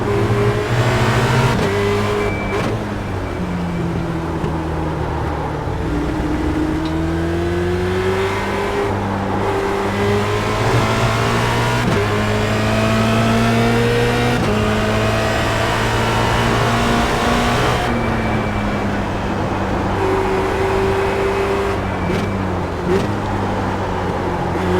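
A Formula Renault 2.0 race car engine in a racing simulator game at the Nurburgring, revving steadily and loud throughout, with rising and falling pitch through gear changes and no talk over it.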